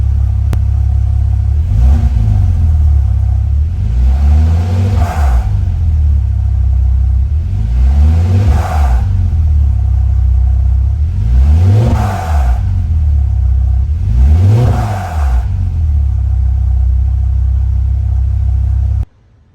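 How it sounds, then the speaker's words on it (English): A Porsche engine, idling during an air-oil separator test, is revved in five rising-and-falling blips spaced a few seconds apart over a loud, steady low idle rumble, then shuts off abruptly. "Try to give it some rev,"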